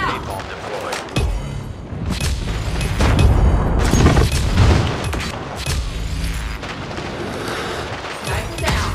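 Napalm airstrike explosions in the Call of Duty Mobile video game, heavy rumbling booms and crackling blasts rolling continuously and loudly across the clip, with dense gunfire-like bursts layered throughout.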